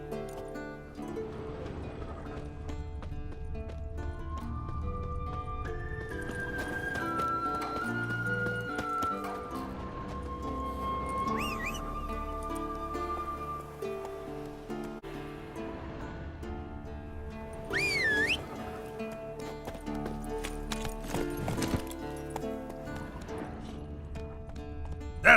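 Hooves of the horse Roach in The Witcher 3, a steady clip-clop gallop running under game music and ambience, with a brief whinny-like sound partway through.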